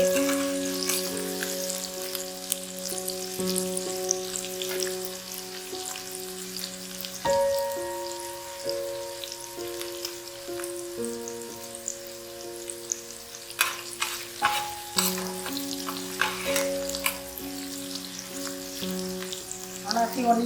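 Onion tadka for Punjabi pakora kadhi sizzles and crackles in a pan while being stirred, a steady frying hiss with occasional scraping knocks, a sustained musical tone running beneath it.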